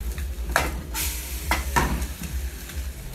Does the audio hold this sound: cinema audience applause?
no